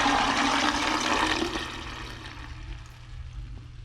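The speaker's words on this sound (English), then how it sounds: "So this is draining really fast" Water rushes quickly down a newly built shower drain, a loud gurgling wash that eases and thins toward the end, with no voices.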